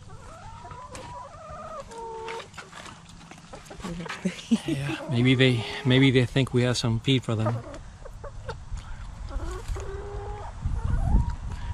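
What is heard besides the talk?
chickens clucking in a coop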